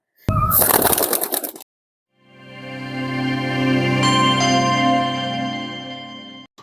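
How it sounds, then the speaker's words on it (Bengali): Pigeons, including Pakistani and teddy breeds kept at a home farm, coo in a low drawn-out rising call close by, preceded by a brief burst of rustling flutter and then a pause. "এক জোড়া পাকিস্তানি কবুতর আছে টেডি কবুতর আছে এক সেট"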